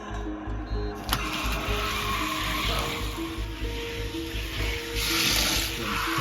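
Diecast Hot Wheels cars racing down a toy track, a continuous rolling rattle and rumble with a sharp click near the start, close and fairly loud.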